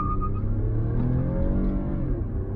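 A luxury car accelerates with a low, steady engine rumble that rises smoothly in pitch as it gathers speed, heard from inside the cabin, close and moderately loud with no talking.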